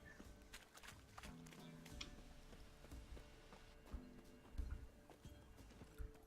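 Roach, the horse in The Witcher 3: Wild Hunt, trots along with a steady, rhythmic clip-clop of hooves set against constant in-game ambience.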